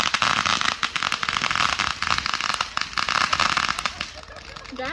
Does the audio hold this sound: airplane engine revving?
no